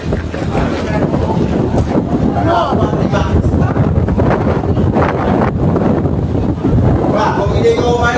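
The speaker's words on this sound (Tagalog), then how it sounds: "Kasi sobrang lakas ng hangin." Strong wind roars across the microphone in a harbour where the ship MV Maria Rebecca was driven into a collision. The gusting is loud and constant, with voices talking underneath.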